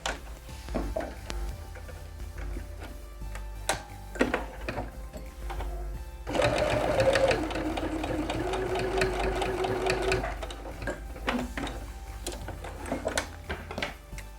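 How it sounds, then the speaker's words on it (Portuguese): A sewing machine stitches fabric for a small DIY almond bag, close and fairly quiet, running in short bursts with clicks and handling noises, then in one sustained whirring run of about four seconds before stopping. "Neste extremo exatamente a mesma coisa, portanto, costurar apenas 1 cm."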